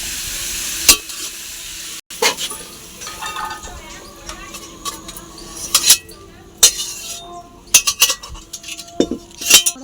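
Pumpkin fries in a pan while a utensil stirs it, with a soft continuous sizzle broken by repeated sharp scrapes and metallic clinks against the pan, close and fairly loud.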